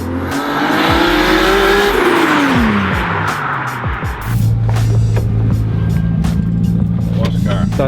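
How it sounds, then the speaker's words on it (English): A Nissan Skyline R32 GTR drift car roars past loud and close, its engine note rising and then dropping as it goes by, with tire noise and a person talking over it. "Alright, get ready for a flyby."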